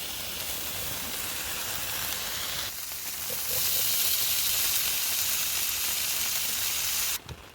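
Steady hiss from a butane camping stove outdoors, a continuous close, even rush of gas that grows slightly louder partway through and cuts off abruptly near the end.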